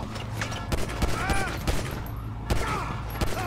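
Rapid gunfire bursts in a police patrol video game, sharp repeated shots spread across the moment amid game ambience, fairly loud and close.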